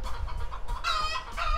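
Chickens clucking and a rooster crowing near a pickup truck, several birds calling in quick irregular bursts, loud and close, with no talk over them.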